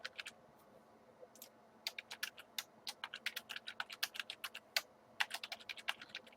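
Clattering keystrokes on a computer keyboard, typed in irregular quick bursts with brief pauses between, close and fairly quiet with no talking.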